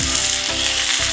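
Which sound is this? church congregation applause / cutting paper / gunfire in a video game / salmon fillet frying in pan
salmon fillet frying in pan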